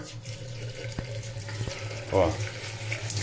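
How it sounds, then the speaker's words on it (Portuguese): Water runs from a kitchen sink faucet in a steady hiss, close by, while someone talks over it. "aqui é a torneira da pia"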